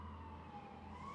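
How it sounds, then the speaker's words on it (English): An ambulance siren wails as it passes, a steady tone sliding slightly upward, heard faintly under a low rumbling traffic drone. "This ambulance."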